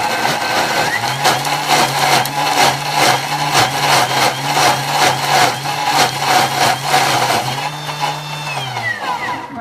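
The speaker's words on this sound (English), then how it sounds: "So what I'm going to do now is throw him onto the food processor." A food processor blitzes roast garlic vegetables in a kitchen, a steady loud whirring motor roar with a low hum and a churning, pulsing rattle throughout, close up and without talk.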